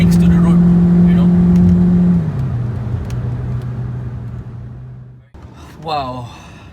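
A Proton Waja front-wheel-drive car drives on the road, its engine a steady hum heard from inside that eases off as it cruises, with a short vocal sound near the end.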